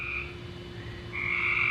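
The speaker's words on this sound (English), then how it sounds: "not having frogs so crazily" Frogs croak and trill steadily near a backyard squirrel picnic table, forming a dense chorus. A bright, high call fades out early and swells again toward the end, with no voices.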